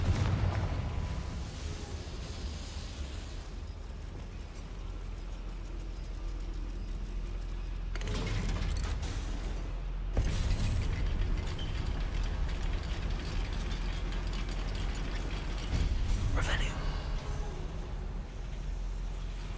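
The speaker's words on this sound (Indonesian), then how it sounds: "Look at this lift. Impressive workmanship for so simple a device." Goblin mine lift in Hogwarts Legacy grinding along, a low continuous rumble with heavier mechanical thuds and clanks surging at intervals over game ambience.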